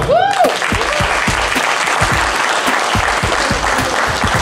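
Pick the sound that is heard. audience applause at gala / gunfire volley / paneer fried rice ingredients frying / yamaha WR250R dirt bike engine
audience applause at gala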